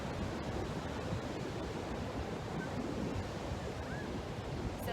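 Ocean surf washes in as a soft, steady roar of waves, faint and continuous throughout with no voices over it.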